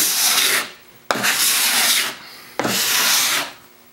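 A larger putty knife scrapes across white oak in three long strokes, each a loud rasping pass that starts with a sharp bite and fades out, close up and with nothing else heard.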